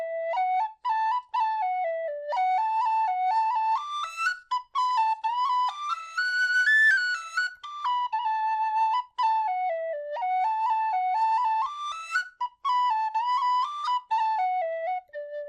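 Sondery tin whistle playing a lively melody in D, clear breathy tones stepping up and down with quick ornamented notes and short gaps for breath, close and alone.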